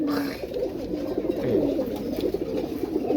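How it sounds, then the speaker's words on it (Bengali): Pigeons, kept and offered for sale, coo steadily in a dense low murmur, close and fairly loud throughout, with no talking. "এই হচ্ছে কবুতরগুলো"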